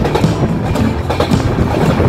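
The Sikkim Mahananda Express passenger train running through forest, heard from inside the carriage as a loud, steady rumble with rhythmic clickety-clack of wheels on the rails.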